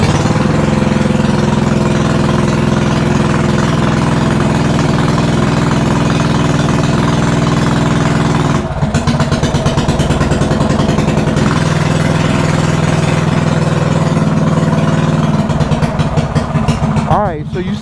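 A mini bike's small engine runs steadily at a high idle, a loud continuous drone with a brief change in tone midway, while a person talks over it.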